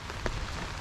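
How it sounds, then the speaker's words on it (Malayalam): Rain falling outdoors during trap fishing in floodwater, a dense steady hiss of drops on surfaces, brief and fairly close, with no talking. "നല്ലൊരു മഴ പിന്നെയും വരുന്നുണ്ട് കേട്ടോ"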